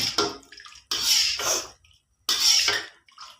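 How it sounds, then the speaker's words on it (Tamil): Water gushes and splashes into a cooking pan in two separate pours separated by a short pause, close up and fairly loud, with no talking, while making bean curd gravy. "இன்னும் கொஞ்சம் தண்ணி ஊற்றணும் பத்தாது"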